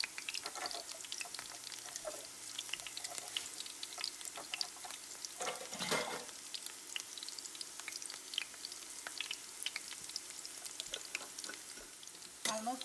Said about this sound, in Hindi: यहाँ पे प्याज भून रही है